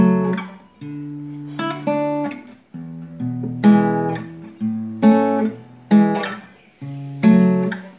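Fingerpicked acoustic guitar plays the intro and verse pattern of a song, with steady plucked bass notes and ringing chords in a repeating rhythm, close and clear with no talking.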